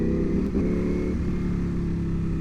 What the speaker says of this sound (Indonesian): Dan ya kalau pakai motor ini karena suaranya beda ya, karena suaranya V4 dan mesinnya tidak sehalus itu